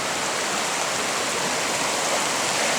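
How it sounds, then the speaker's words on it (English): Steady rushing of creek water flowing over rocks on the Superior Hiking Trail in Minnesota, a constant broadband wash with no voices, close and fairly loud throughout. "Here's the creek."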